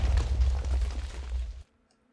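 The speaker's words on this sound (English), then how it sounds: "Why was there an explosion?" Explosion in the video game Minecraft, a loud, rumbling low boom that sustains heavily before cutting off abruptly into silence.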